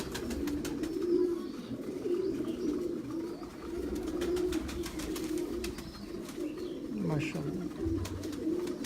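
Breeder pigeons coo in a rooftop loft, their repeated low throaty rolls layered over one another, while someone talks nearby over the flock.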